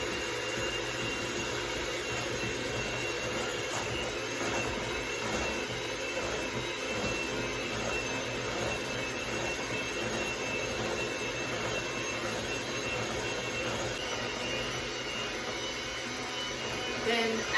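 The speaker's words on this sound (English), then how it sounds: "And then start on low to mix it." Electric mixer running steadily on low, beating yogurt for a no-bake bite-size cheesecake, a continuous whirring hum throughout with no pauses.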